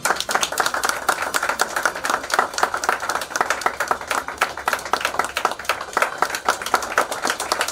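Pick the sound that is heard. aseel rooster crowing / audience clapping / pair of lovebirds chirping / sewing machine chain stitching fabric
audience clapping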